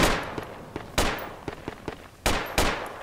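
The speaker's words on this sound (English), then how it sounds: "Keep the fire up. Keep shooting." Gunfire in the military video game Battlefield 2 Project Reality at a mountain enemy base: sharp, close single shots at irregular intervals with fainter distant reports between them, no talking.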